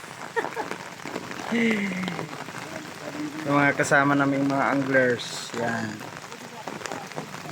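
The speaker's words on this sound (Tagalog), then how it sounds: "Lakas ng ulan dito mga prekoy." Steady heavy rain patters loudly on a surface while a man standing outside under an umbrella speaks over it, the downpour continuing throughout.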